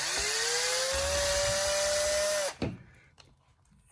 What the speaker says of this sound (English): Then I'm going to take these screws out here.